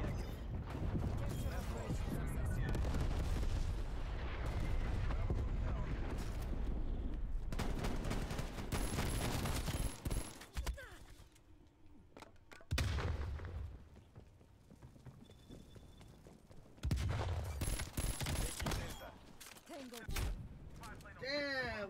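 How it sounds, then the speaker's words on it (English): Artillery fire and dense gunfire in Call of Duty: Cold War, with loud booms and rapid shots in bursts broken by brief quieter gaps. "Hostile artillery targeting active."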